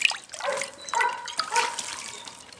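Dirty water is tipped out of a rabbit's water bowl in a meat rabbit colony, giving a short close splash and trickle with scattered drips over a couple of seconds.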